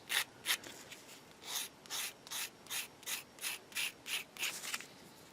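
A Tamiya 1/12 scale model figure part is gently sanded by hand, about a dozen soft, even rasping strokes in a steady back-and-forth rhythm, close and fairly quiet.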